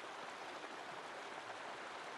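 Oak Creek flows past at its edge in a soft, steady trickling wash, faint and continuous with no voices or other sounds over it.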